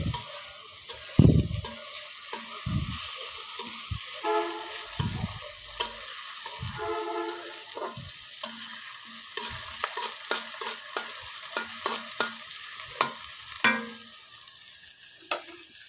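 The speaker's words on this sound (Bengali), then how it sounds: "পেঁয়াজ দিয়ে একটু নাড়াচাড়া করে নিচ্ছি" Onions with torn dried chillies and lentil-spice tempering fry in a wok under a soft, steady sizzle, with irregular scraping stirs and clacks of a spatula repeating up close.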